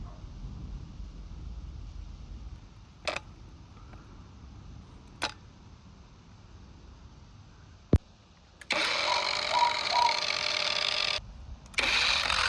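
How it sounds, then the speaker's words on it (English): An angle grinder fitted with an old slipper to spread lawn grass seed gives a few sharp clicks, then whirs loudly for about two seconds, stops, and starts again briefly. "you have to turn the grinder on and off, and then it spreads the seeds for lawn grass well"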